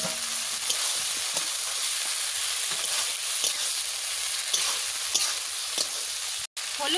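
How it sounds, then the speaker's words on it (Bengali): Spices frying over an open fire for chicken curry, a continuous crackling sizzle with intermittent pops and stirring scrapes, cut by a brief silent gap near the end. "মশলা ভালো করে ভাজা হয়ে গেছে আর আগুনও জ্বলতেছে"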